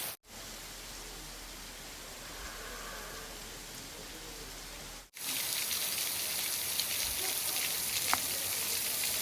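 Waterfall at Emerald Pools in Zion National Park, a steady rushing hiss of falling water heard continuously, with a brief cut partway through after which the roar becomes louder and brighter.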